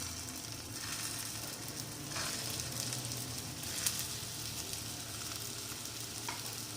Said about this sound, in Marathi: त्याला पण छान फ्राय होऊ द्यायचं.